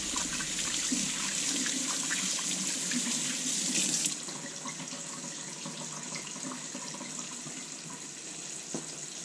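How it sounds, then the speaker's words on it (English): Tap water runs into a kitchen sink while hands are washed during cooking, a steady close rushing splash that drops to a softer flow partway through. "we got to wash the old hands again"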